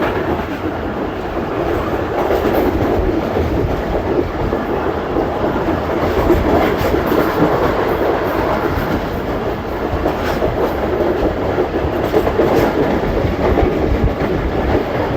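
Tezgam 8 Down, a passenger train on a morning run near Mandra railway station, rolls along the tracks with a steady, loud rumble and continuous rhythmic clatter of wheels over rail joints, heard from on board.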